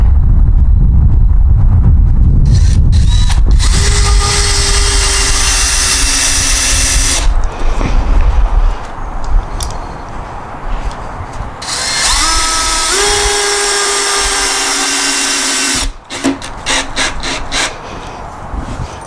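A power drill drives screws into the wooden corner of a raised bed planter in loud whining bursts, several separate runs with pauses and clattering handling between them.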